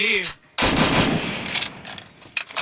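An XM8 rifle fires several loud bursts in the Free Fire video game, separated by short gaps, with a voice heard briefly at the start.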